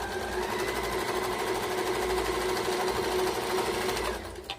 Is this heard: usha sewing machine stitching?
yes